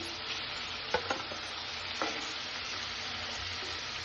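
Chopped shrimp and diced onion fry in spiced oil in a pan, a steady close sizzle with a few sharp stirring knocks and scrapes against the pan.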